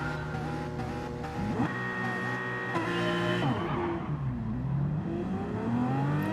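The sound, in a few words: GT3 race car engines revving at race start in a racing video game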